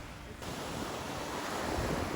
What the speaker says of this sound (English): This is Ian wandering into the sea for the first time this trip.